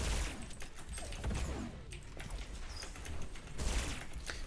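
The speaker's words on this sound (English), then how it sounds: "the sound effect on this is changing as well. So ignore the sound effect of the fire on that" Bursts of video game weapon fire crackle and thud through a dense mix of game noise, with heavier volleys near the start and again toward the end.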